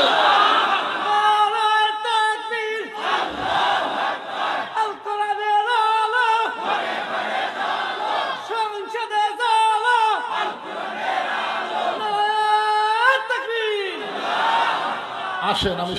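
A large crowd at a religious sermon chants back in unison to the takbir call, loud repeated collective shouts rising and falling in waves.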